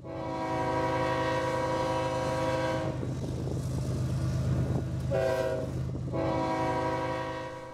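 BNSF GE Evolution locomotives climb an upgrade near Everton hauling an empty RWX coal train, a loud sustained engine roar with long blasts of the horn, one break and then a second sounding, all close and alone.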